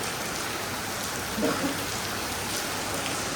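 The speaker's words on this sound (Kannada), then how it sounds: "ಅಷ್ಟಿಷ್ಟಲ್ಲ ಜಗ್ಗಿದೆ ಮಳೆ" Heavy rain pours steadily on an outdoor street in Dubai, a dense, constant hiss filling the whole stretch with no breaks; no voices are heard.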